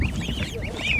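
Goose chicks at a poultry market in Ankara give high, wavering peeps and chirps in quick succession, close by, over a low background murmur.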